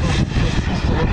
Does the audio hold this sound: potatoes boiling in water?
no